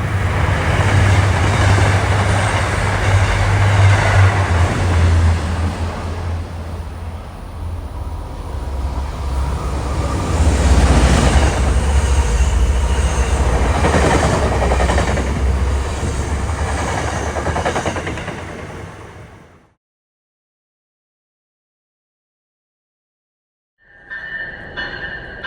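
An MBTA commuter rail train running from Stoughton to Boston rumbles past close by, a loud, sustained roar of wheels and rail noise that fades out, followed by silence and a brief renewed rumble.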